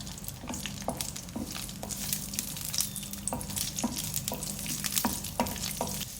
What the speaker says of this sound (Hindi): 2 टेबल स्पून इसमें ऑयल डालूंगी, 15 काजू लिए हैं ये डालूंगी इसमें।